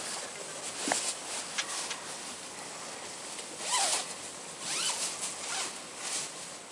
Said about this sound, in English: just open the zippers for me